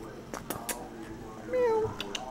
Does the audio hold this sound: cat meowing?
yes